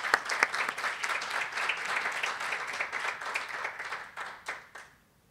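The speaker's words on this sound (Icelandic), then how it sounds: "gefa henni aftur gott klapp" Conference audience at a youth research event gives a speaker a warm round of applause: dense, even clapping that holds for a few seconds and then thins out and fades to silence.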